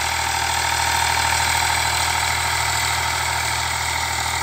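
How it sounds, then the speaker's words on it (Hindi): An Eicher 485 tractor engine runs steadily while pulling a cultivator through a field, a loud, continuous diesel drone with a deep low-end throb and no pauses or voices. "ट्रैक्टर दहाड़ता है शेर की तरह"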